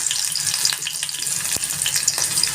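Chopped onion sizzles and crackles steadily in hot oil with mustard seeds, cumin and curry leaves for oats upma, a continuous frying hiss with sharp pops and occasional stirring scrapes, close and fairly loud, no talk.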